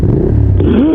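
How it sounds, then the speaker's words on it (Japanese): A parked motorcycle revved in place from close behind, a loud, brief burst of engine roar with a rising, then falling pitch. "ちょっと空ぶかししてみてください。"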